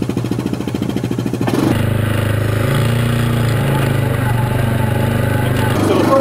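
A Yamaha Viking side-by-side in four-wheel drive with a refitted radiator, its engine droning loud and steady close by after a sharp rise in power, rumbling continuously off road.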